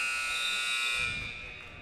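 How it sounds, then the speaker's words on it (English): A loud, steady electronic buzzer sounds at the end of a senior night high school wrestling match, a sustained harsh tone that holds for most of the moment before tapering, with faint crowd murmur underneath. "goes the buzzer, and that will signal a 5-0 Patriots"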